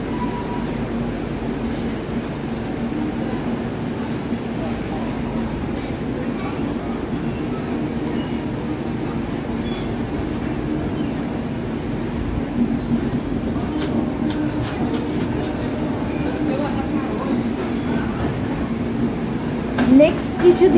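A passenger train pulls out of platform 4 at Asansol station, a steady low rumble of the carriage filling the background with faint clicks near the end.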